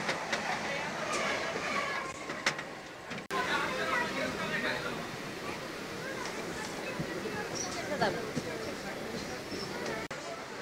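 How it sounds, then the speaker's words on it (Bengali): A train passes on Kolkata's circular railway, a sustained clattering rumble of wheels on track with rhythmic knocks, heard from nearby, while someone talks over it. "এইটা একটা ট্রেন যাচ্ছে"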